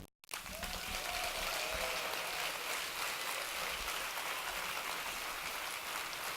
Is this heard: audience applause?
yes